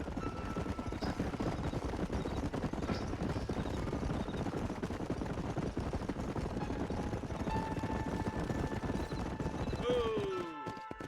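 Horses clip-clop over rough western terrain in Red Dead Redemption, hoofbeats continuous and busy throughout, with a few tonal game sounds near the end.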